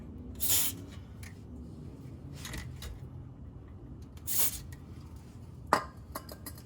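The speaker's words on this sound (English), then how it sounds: "To get these hangers off, I'm gonna spray some WD-40 lubricant" WD-40 lubricant sprayed onto the exhaust hanger isolators of a Jeep TJ with a 2.5L four-cylinder engine comes in two short, sharp hissing bursts, with a few quiet metallic clicks and clinks between them.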